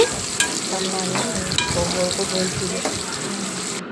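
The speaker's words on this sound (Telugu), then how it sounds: "అవి కొంచెం వేగిన తర్వాత ఆనియన్స్ వేసి మంచిగా బ్రౌన్ కలర్ వచ్చేంత వరకు ఫ్రై చేసుకోవాలి." Onions and whole spices fry in oil for a Muslim-style biryani, giving a steady close sizzle with scraping stir strokes, while a voice talks faintly underneath.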